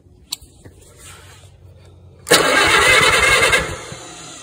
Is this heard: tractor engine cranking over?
yes